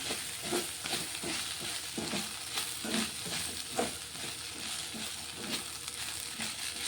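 Okra fry with coriander powder being stirred in a pan, with steady sizzling and rhythmic scraping strokes of a spoon against the pan, close and continuous with no talk.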